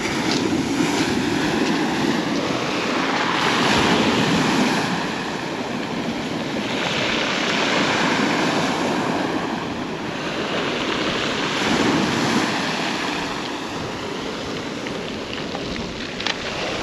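Black Sea waves washing onto the shore at Lazarevskoye near Sochi under a dark cloudy sky, a loud continuous surf roar swelling and receding in slow surges, with no voices.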